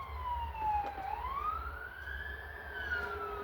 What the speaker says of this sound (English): Very rarely hear sirens around here where I live.